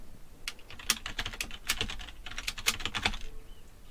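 Fast typing on a computer keyboard while writing Kotlin code, a close, busy run of crisp key clicks in uneven bursts with no talking.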